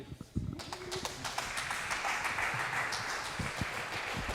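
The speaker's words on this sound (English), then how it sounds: "That was a fair ripple of applause there" A modest ripple of applause from a sparse crowd for 2020 Manchester Open squash champion Mohamed ElShorbagy, starting after a brief pause and holding at a steady, moderate level with scattered sharper claps.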